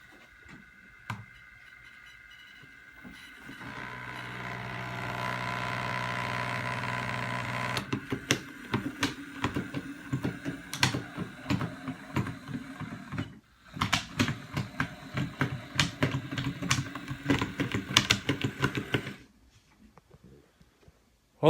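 The small motor of a Life-Like Proto 2000 model locomotive with cracked gears whirs with a gritty, uneven grinding and clicking, starting and stopping a few times with quiet gaps between runs.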